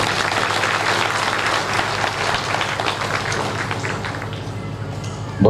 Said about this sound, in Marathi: एकदा प्रेमानं आपण सगळेजण त्यांचं स्वागत करू टाळ्या